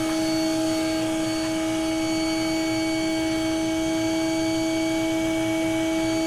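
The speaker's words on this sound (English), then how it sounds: "This is a regulated vacuum." A regulated vacuum runs while sucking bees off a wall, producing a constant, close, tonal motor hum that holds steady throughout.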